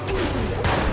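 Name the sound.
gunshots in the video game Watch Dogs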